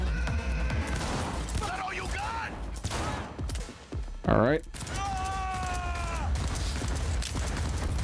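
Gunfire and a grenade blast in the Cyberpunk 2077 video game, a dense rattle of shots and a sharp explosion mixed under game music and tonal effects, with someone speaking briefly.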